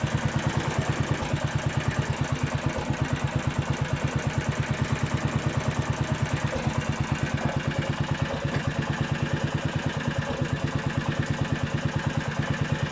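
A Honda HR21 lawn mower engine idles steadily nearby, a regular rapid chugging with slight wavering, moderately quiet and with no voices; its carburettor needs cleaning.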